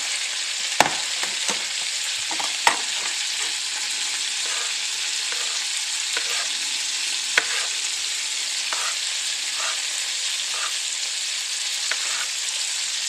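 Tomatoes and other vegetables frying in a pan give a steady, close hiss of sizzling, broken by a few sharp pops and occasional stirring clicks, with no talking.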